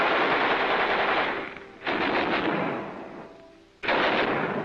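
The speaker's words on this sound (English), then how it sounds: "check and test fire all weapons." Machine guns test-fired during preparation for an amphibious assault at Tarawa, heard as loud sustained bursts of automatic fire with a brief lull between long volleys.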